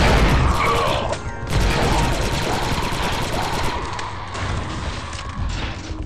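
Automated turrets fire in the video game Republic Commando, sustained rapid bursts of loud gunfire with a brief pause, then more shooting and mechanical clatter.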